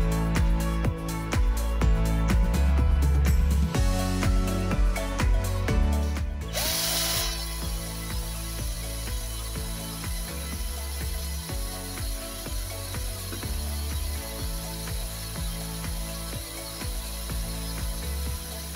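A SUNC Tools 12V cordless drill spins with no load in gear mode 1, its motor whirring with clattering, ratchety mechanical noise that settles into a steady, even hum partway through; loud and close, with no talking.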